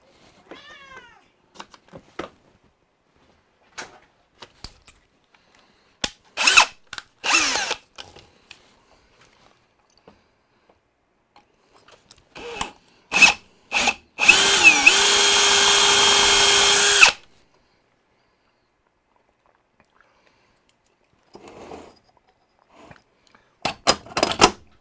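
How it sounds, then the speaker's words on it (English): A power drill bores into an expensive camera lens: a few short whirring bursts, then one loud sustained run of about two seconds, with scattered clicks and quiet gaps between. "We are going to drill again."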